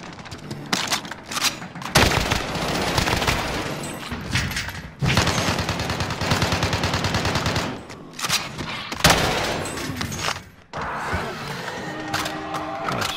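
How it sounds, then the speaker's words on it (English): Enemy gunfire in the video game Warzone rattles in dense, repeated bursts, loud and close, broken by brief gaps, with faint voices underneath at times. "this guy's shooting me!"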